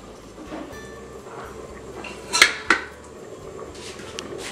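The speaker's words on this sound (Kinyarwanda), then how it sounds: "ufata isafuriya ugashyiramo za nyama" Pieces of meat go into a metal saucepan while a beef sauce is being prepared, giving two sharp metallic clanks in quick succession over faint background room noise.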